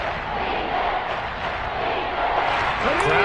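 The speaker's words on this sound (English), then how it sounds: "Crowd getting in it a bit already." Crowd noise at an American football game in a video game, a steady broad roar of a stadium crowd with rising energy, continuous and fairly loud throughout.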